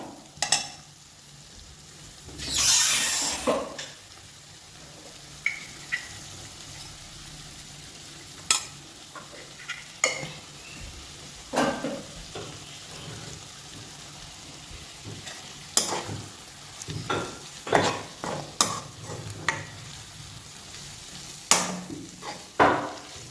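A spoon stirs turmeric and salt into frying onions in a sizzling pan, with repeated clinks and taps over a steady frying hiss.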